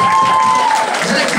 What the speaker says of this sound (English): Alright, thank you very much, round of applause.